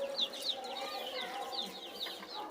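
Chickens on a farm cluck softly while pecking at freshly harvested new paddy, with repeated short murmuring calls and a few higher chirps spread across a continuous low chatter.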